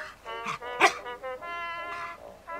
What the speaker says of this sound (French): le chien de garde.